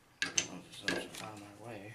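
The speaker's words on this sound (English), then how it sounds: "Get this out of the vise." Clunks and sharp metallic knocks as an AR-15 part is freed from a bench vise, a few distinct impacts followed by softer handling rattles, close and moderately quiet.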